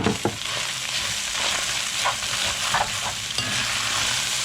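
Beef for ropa vieja crisps in a hot pan with a steady close sizzle, broken by several scraping stirs.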